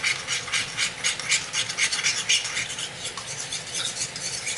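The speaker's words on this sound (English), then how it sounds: "Now for the cornstarch, I added the water, and then we're gonna mix that into a slurry." Cornstarch and water are stirred briskly into a slurry, producing rapid rhythmic scraping and swishing strokes, close and fairly faint, with no talking.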